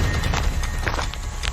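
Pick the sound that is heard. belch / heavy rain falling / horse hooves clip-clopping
horse hooves clip-clopping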